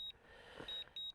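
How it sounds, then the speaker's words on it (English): Repeated high electronic beeps from a DJI Mavic 4 Pro drone's obstacle avoidance warning at a canyon, several steady tones in a quick sequence, fairly faint with no one talking. "I'm getting a bunch of obstacle avoidance beeps, and there is nothing around the drone"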